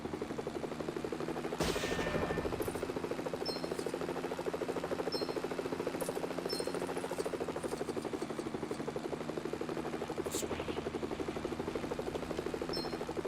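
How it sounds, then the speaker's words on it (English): Video game helicopter with a steady droning rotor buzz and hum continuing throughout, moderately loud, with a few brief faint clicks over it. "The helicopters respawn too."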